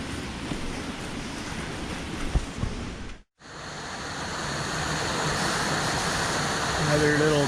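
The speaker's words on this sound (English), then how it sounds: "Another little beautiful tiny waterfall." A small waterfall on a cave trail in Colombia gives a steady broadband rush of falling water. After a brief dropout it returns slightly louder and constant, with no talk over it.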